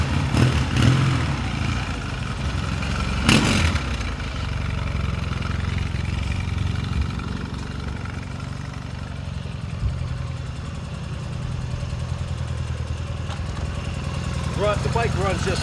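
A 1979 Yamaha XS650 motorcycle, almost 40 years old and in original condition, idles steadily with a low, even engine rumble that runs throughout, under someone talking.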